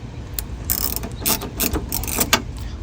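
A ratchet wrench clicks in short quick bursts while loosening a 10mm bolt on the window track of a 1993-2002 Camaro, close and crisp with several separate clusters of ratcheting.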